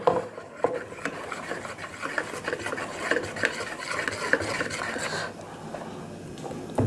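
Eggs being beaten with a hand beater for a dalgona cake, a continuous close scraping and whisking against a bowl with irregular clinks, no speech over it.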